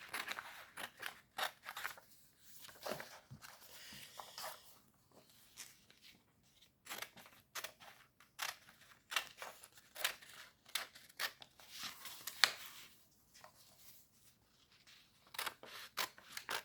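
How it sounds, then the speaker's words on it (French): Paper is cut out roughly with scissors in a string of quick, close snips and crunches, with short pauses between bursts and no talk. "je découpe grosso modo"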